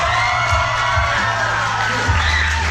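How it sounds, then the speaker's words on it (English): Theater audience cheering and whooping with a crowd roar, loud and continuous throughout, close and dense with no gaps. "round of applause if you've seen our show before"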